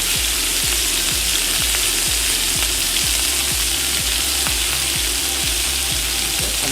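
Ox cheeks searing in a hot frying pan: a loud, steady, close sizzle with crackling fat throughout, and rhythmic low thumps from the pan being moved or stirred.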